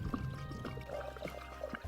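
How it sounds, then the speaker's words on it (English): Coolant pours in a thin, steady stream into the engine of a restored tractor, a quiet liquid gurgle and trickle heard up close with faint clinks of handling. "Coolant is poured, preparing the engine for its first run."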